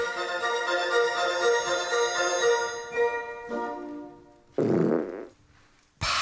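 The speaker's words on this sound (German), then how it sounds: "Wie entsteht eigentlich ein Pups?" A series of farts: a long, drawn-out buzzing one, then shorter, rougher bursts with gaps between them, loud and close.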